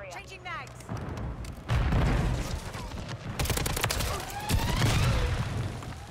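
Dive bomb explosions thunder in a Modern Warfare 3 multiplayer match, a dense rolling barrage of booms and gunfire that swells and persists loudly, with players talking over the chaos.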